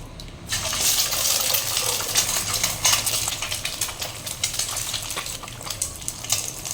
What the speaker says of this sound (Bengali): আমি এখানে ডিমগুলোকে একে একে কড়াতে দিয়ে নেব